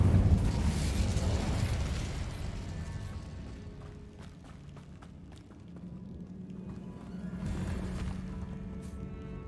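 A fiery Incendio spell bursts out in Hogwarts Legacy, a loud whooshing blast and rumble that fades into a low crackling burn, then swells again near the end.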